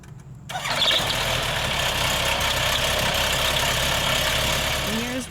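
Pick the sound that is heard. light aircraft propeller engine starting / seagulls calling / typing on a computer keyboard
light aircraft propeller engine starting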